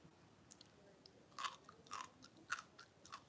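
Close, quiet crunching as someone chews pickles in a McDonald's burger, with several crisp bites and chews spread unevenly over a few seconds and no talking.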